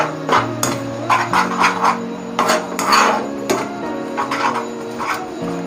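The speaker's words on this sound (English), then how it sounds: "I always cook this in a pan" Maggi noodles cooking in a pan, with repeated metallic scraping and clanking of a utensil against the pan over a steady hum, close and fairly loud.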